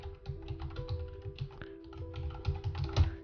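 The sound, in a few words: typing an email address on a computer keyboard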